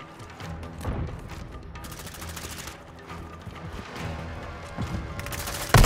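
Video-game gunfire in Call of Duty Modern Warfare: rapid automatic bursts and scattered single shots crackle in uneven clusters with a few heavier booms, loud and close amid continuous in-game noise.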